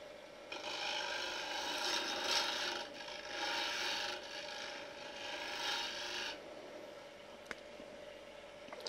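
A wood lathe spinning while a tool cuts a tea light holder, giving a steady close rasping hum with pulsing scrape bursts that ease off after several seconds, leaving the motor running under a faint click.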